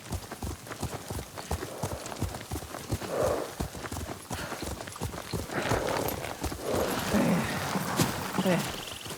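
Horse hooves clip-clop steadily at a riding pace in the video game Ghost of Tsushima, a continuous close rhythm of hoofbeats with soft background ambience and occasional faint character vocal sounds.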